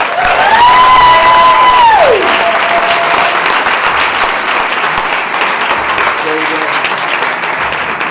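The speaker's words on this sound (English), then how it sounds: "Another round of applause for this great guest." Loud applause and cheering from the crowd at an anniversary Q&A for guests fills the room, steady and dense, with a whistle rising and falling early on over the clapping and voices mixed in.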